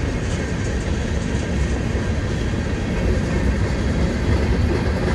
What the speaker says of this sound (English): Train is from Avon, Indiana to Selkirk Yard.